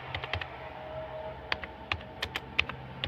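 Fingers type on a computer keyboard in short, irregular bursts of crisp key clicks, close and moderately loud over a steady low hum, with no talking.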